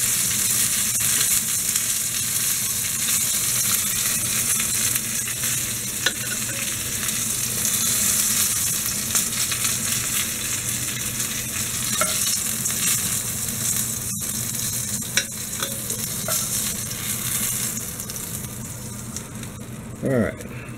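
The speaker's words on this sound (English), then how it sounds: "our oil come back up to speed again and drop in the second batch." Venison shanks brown in a pot of hot oil with a loud, continuous sizzling crackle that runs throughout, along with occasional stirring scrapes and someone talking over it.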